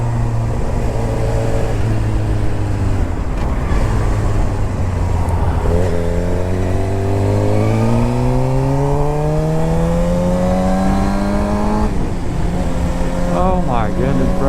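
A motorcycle with an extremely loud exhaust rides on a highway, its engine droning steadily and rising in pitch as it accelerates through gears, with wind roar and someone talking over it.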